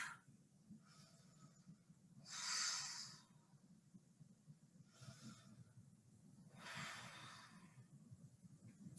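Slow, deep yoga breaths, each long inhale and exhale a soft, close airy rush, repeating in an unhurried rhythm over a faint low hum.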